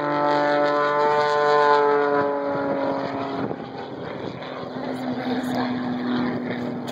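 An air show airplane flies low overhead above Lake Minnetonka on the Fourth of July, its engine droning with a shifting, sweeping pitch as it passes close, loud over faint background noise.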